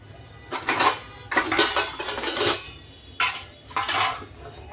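Steel kitchen dishes and pots are set onto a rack, producing several bright clattering metallic bursts in quick clusters with short gaps between, close and fairly loud.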